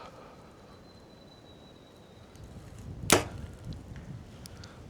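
A single sharp whoosh and thwack as an arrow is released from a bow on a windy day, loud and close, followed by faint outdoor rustling; no speech.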